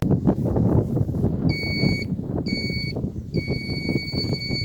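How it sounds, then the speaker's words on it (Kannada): An automatic borewell controller beeps three times, each a sustained high tone lasting about half a second or more, over a loud rumbling background noise. "ಈ ಥರ ಬೀಪ್ ಬರುತ್ತಾ"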